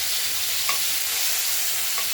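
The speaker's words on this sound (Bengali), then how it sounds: "টমাটোটা দিয়ে দিলাম, ভাজা করে নিই" Tomato fries and is stirred in a pot, giving a dense, constant sizzle that stays close and even throughout, with a couple of faint clinks and no voices.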